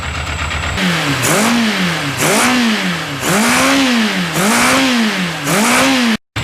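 A repaired carburetor engine runs loud and close, revving up and down in a steady repeating cycle of about one rise per second, with a brief cut near the end.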